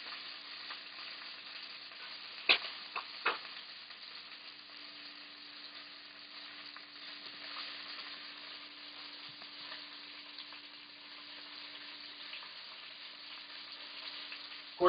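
Rabbit meat browning in a pan, a soft continuous sizzle at low level with a few clicks and knocks near the start, muffled and steady without talking.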